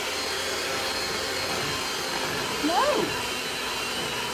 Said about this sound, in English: This mixer is so powerful.